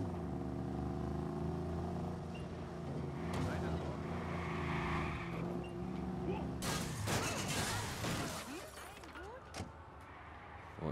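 A car drives in the video game Watch Dogs, its engine droning steadily with shifting pitch, then a burst of crashing clatter partway through.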